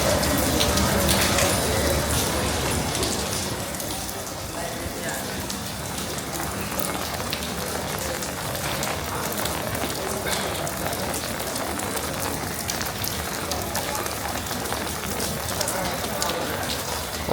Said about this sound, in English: it's a little bit raining, but it's okay. It's not that heavy rain, just very small